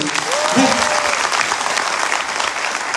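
A crowd at a motivational seminar claps loudly and steadily for a few seconds, a dense, even wash of applause with a brief voice sounding underneath near the start.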